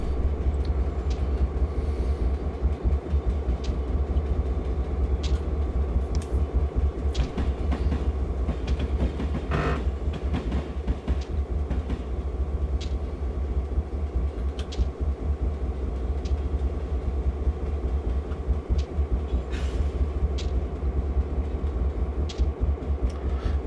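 A Union Pacific GP38 diesel locomotive runs steadily in Train Simulator, with a constant low engine drone and rolling rail noise, plus occasional clicks and squeals over the track.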